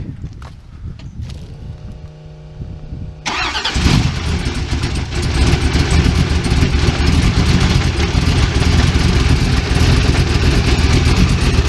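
A supercharged 1963 International Harvester drag pickup cranks with a whining starter, then fires up and settles into a loud, close, rough idle with a deep rumble that builds slightly, no talking.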